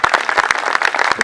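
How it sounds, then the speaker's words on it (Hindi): A crowd at an outdoor Independence Day celebration in Nehru Park, Surya Nagar, Ghaziabad, claps loudly in a fast, even rhythm for a brief moment, close and with no talk. "एक बार तालियां बजनी चाहिए"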